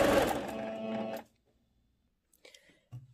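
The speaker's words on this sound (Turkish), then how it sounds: "Aynı şekilde çekerek dikişimi atıyorum." Sewing machine stitching the elastic waistband of a skirt, a steady loud mechanical whir for about a second that stops abruptly, followed by a few faint handling clicks and rustles.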